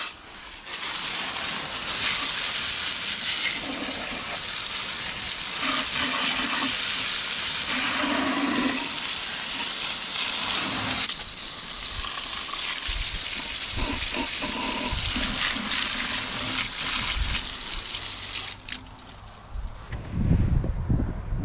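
Pressurized water spray blasting years of grime off a surface, a loud continuous hiss with shifting splatter, cutting off near the end before a few knocks and handling sounds.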